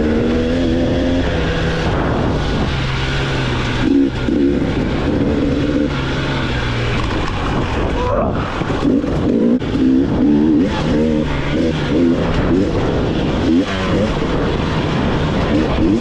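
A 2021 GasGas 300 EC dirt bike runs loud and continuous over rocky trail sections, its engine note rising and falling with throttle changes under steady riding noise.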